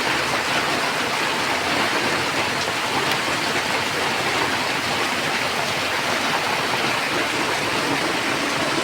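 Heavy rain pours down alongside a strong, rushing water current on a street, forming a loud, steady, unbroken roar of hiss and splashing with no voices.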